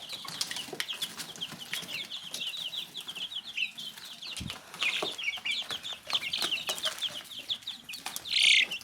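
Fourteen two-week-old chicks peep nonstop in a busy, high-pitched chorus, close by, punctuated by wing flutters, scratching and a sharper cheep near the end.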